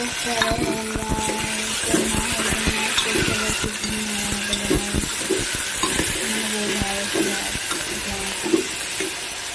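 Potatoes stir-fried in a pan for vegetable pulao, a steady sizzle with repeated scraping and clinking of a spoon against the pan, close and continuous, with a voice talking over it.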